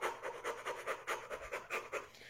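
Rhythmic, deliberate breathing repeats in steady cycles of forceful, airy inhales and exhales, close and fairly quiet, with no talking over it, as part of a focused breathing exercise directed at the throat.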